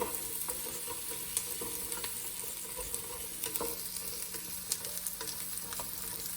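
Zucchini and tofu being stirred in a hot oiled frying pan, with steady close sizzling and frying throughout and scattered scraping clicks of a utensil against the pan.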